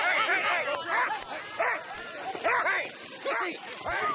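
Sled dogs at a winter racing event bark and yelp in repeated loud bursts, close by, with a noisy outdoor bed and some voices mixed in.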